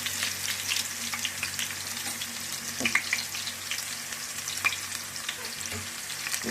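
Onions and cumin fry in a pan for Nellore fish curry, a continuous close hiss with scattered small pops and the occasional scrape of stirring.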